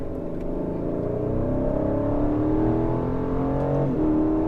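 A sports car engine drones and shifts pitch as the car brakes hard and accelerates on the Miami Grand Prix race track, heard from inside the car, steady and fairly loud.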